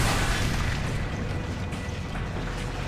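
A powerful reactor blast from the surge gun's primary fire in the TimeShift video game: a loud, dense roar that fills the whole stretch and stays steady and booming throughout.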